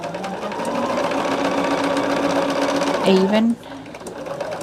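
A sewing machine runs steadily and close while stitching Poppie Cotton Country Blessings quilt block pieces, then halts abruptly near the end as someone speaks under and after the hum.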